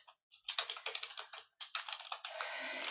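Close, quiet typing on a computer keyboard, quick clusters of light key clicks with short pauses between, ending in a longer run of keystrokes.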